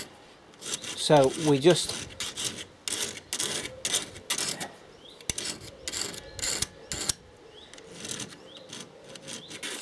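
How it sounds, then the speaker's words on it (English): A flat file rasps in short repeated strokes across the steel blade of pruning secateurs, close and moderately loud, while someone speaks over the filing. "So you can use a flat file, you can use the flat side of your half round file"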